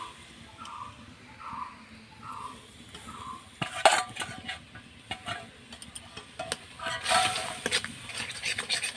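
Paneer being mixed into warmed milk for mango sandesh, heard as scraping and rubbing of a utensil against a bowl, with a few clinks and a louder clatter partway through.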